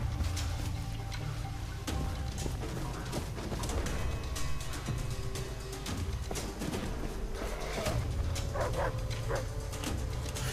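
Dog barks and yips ring out in the Far Cry 3 video game, short bursts scattered over dense game noise, with a cluster of sharper yelps near the end.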